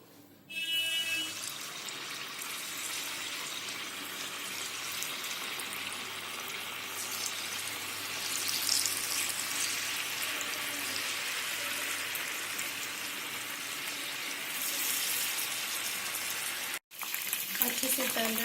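Soya chunks coated in batter fry in hot oil in a kadhai, a steady, fairly loud hiss and crackle that lasts nearly the whole time with a brief break near the end and faint talk in the background.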